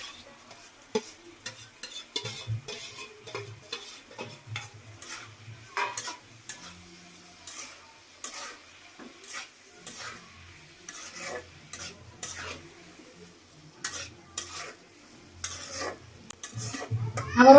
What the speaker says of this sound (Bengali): আবারও 5 মিনিটের মতো এটা নাড়াচাড়া করে নেই।